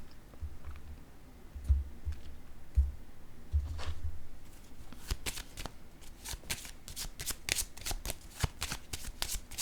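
Tarot cards being shuffled and drawn, soft rustling at first, then a rapid run of crisp riffling flicks, fairly close and quiet, with no one talking.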